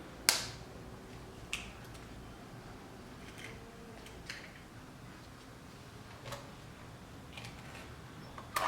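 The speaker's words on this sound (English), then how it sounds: "I'm going to crack the egg one by one." Eggs cracked one at a time into silky creamed butter and sugar for snowman cupcakes, heard as a few sharp, faint clicks and taps spaced out over a quiet kitchen background.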